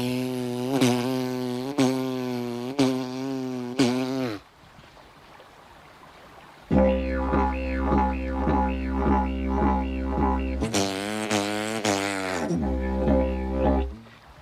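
Didgeridoo droning with a pulsing, bouncy rhythm that imitates a kangaroo hopping down a road, loud and close, with a short pause mid-phrase and no talking.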